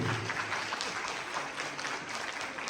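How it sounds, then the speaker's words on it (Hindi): An audience at a Voter Awareness Day programme at a college in Kathua claps steadily, a dense, loud wash of applause that fills the whole stretch without letting up. "तालियां बजाइए इन सब के लिए"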